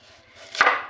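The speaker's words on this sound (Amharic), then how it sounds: "ሽንኩርቱን ደግሞ እኔ እየከተፍኩ ነው።" A knife chops an onion on a cutting board during home cooking, making a single crisp, close chop that rises out of quiet background hum.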